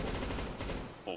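Rapid automatic gunfire from a CS:GO match rattles loudly and continuously for about a second, ending in a short sharp burst.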